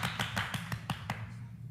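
A crowd at a company year-end gathering gives a quick burst of applause, about seven sharp claps spaced roughly a fifth of a second apart. The claps land close and clear over a low background hum.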